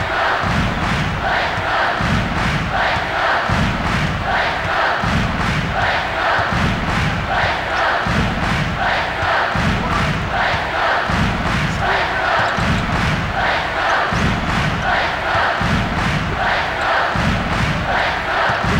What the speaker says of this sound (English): The crowd is making noise.